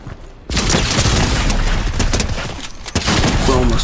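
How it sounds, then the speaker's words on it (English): Rapid bursts of gunfire in the video game Fortnite, loud and dense after a brief quiet start, with a short dip before another burst. "Bro shot at me. Who's shooting at me?"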